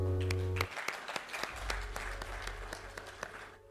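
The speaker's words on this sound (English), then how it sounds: "A round of applause." A round of applause from the audience at a national report launch event in Nigeria, individual claps standing out as distinct sharp hits over a low hum, with a tonal music-like tail fading out early on.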